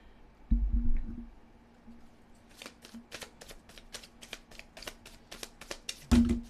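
Repeated crisp riffling bursts of playing cards being shuffled, about a dozen quick flicks in a steady rhythm, close by, with soft handling thumps at start and end.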